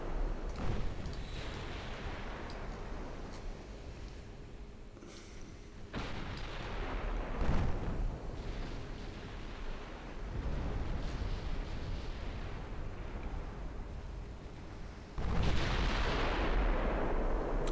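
Naval battle in a war video game as the warship Moskva explodes under gunfire, with repeated heavy booms and rumbling blasts at intervals and a final loud explosion near the end.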